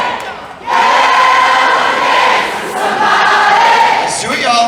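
A dancing party crowd on the Carnival Ecstasy cruise ship at its farewell party roars and cheers loudly and continuously, a dense wall of voices that swells after a brief lull at the start.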